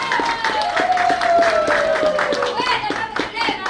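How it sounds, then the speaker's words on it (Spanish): Audience clapping for a school at a district anniversary celebration, loud rhythmic claps from a crowd with a sustained tonal note and voices mixed in. "El aplauso nuevamente para la institución"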